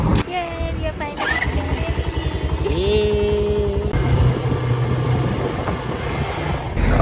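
An ATV engine idles and revs at a Cyprus beach near Ayia Napa, a steady motor drone with a rising pitch sweep midway, while people talk over it.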